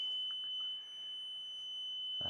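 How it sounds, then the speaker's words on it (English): An electronic alarm in an abandoned hospital with the power still on gives a continuous high steady beep tone, fairly faint against a quiet room, with no speech. "a really annoying beeping sound"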